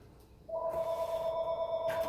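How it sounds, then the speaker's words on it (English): A telephone rings with a steady electronic tone that starts half a second in and holds, fairly clear against a quiet room during a rifle optic unboxing. "Of course, the phone rings."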